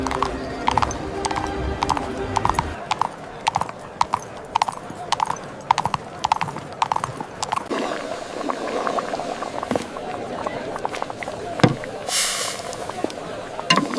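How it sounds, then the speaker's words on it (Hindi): Steady clip-clop of a cartoon horse's hooves, brisk and regular through the first half, then fading under busier background noise and a brief whinny-like burst near the end. "घोड़े को पकड़ कर रखो, हिल रहा है।"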